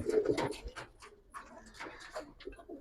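Silver-coloured Giribaz pigeons coo softly nearby in low, throaty phrases, with faint scattered noises around them.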